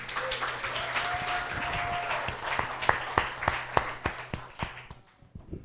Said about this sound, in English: big round of applause for today's winners